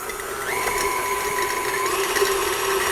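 A mixer beats cream cheese in a bowl, a steady, close, whirring motor drone with a faint rattling mechanical texture, holding even for a few seconds with no talking.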